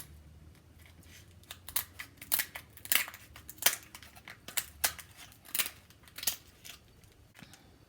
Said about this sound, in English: And then of course I'm going to nicely snip